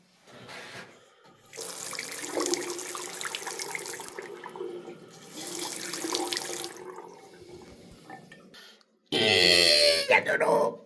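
Water running from a tap in an unheated oasis setup, a steady rushing flow that swells and fades with a louder gush near the end, under excited talking and laughter.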